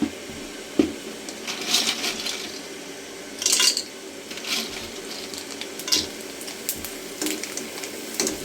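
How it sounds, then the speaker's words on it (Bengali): Papad chips frying in hot oil at home, soft sizzling with intermittent louder crackling bursts and light utensil clinks, close and fairly quiet. "এখন আমি অন্য চিপসগুলোও ভেজে নেব।"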